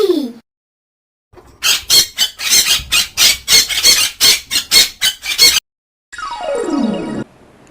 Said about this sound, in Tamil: கிளி